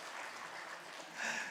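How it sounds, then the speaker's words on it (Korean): A church congregation at a Sunday morning service claps to welcome a returning deacon, a soft, distant patter of applause that swells briefly near the end. "박수로 환영해 주시기 바랍니다"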